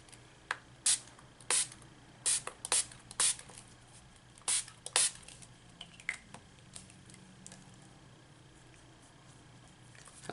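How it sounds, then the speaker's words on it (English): Spray bottle spritzing coffee onto a journal page, a series of short, sharp hissing puffs, several in quick succession, then quieter handling noises in a quiet room. "I'm going to add just a little spritz of coffee."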